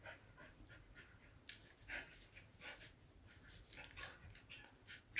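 Rocky the dog pants in quick, soft breathy bursts close by, with faint whimpers slipping in between the breaths.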